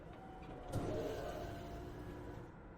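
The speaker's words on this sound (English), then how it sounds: "I have the exhaust sound, which is telling us that we should face" Engine exhaust effect in the Myst mazerunner puzzle: a low, faint mechanical hum with a soft whirring tone, and a brief knock near the start. Quiet and steady, with no voices.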